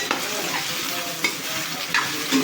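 Eggplant pieces frying in a pan with salt, giving a steady, close, fairly loud sizzle throughout with faint stirring scrapes and no talk.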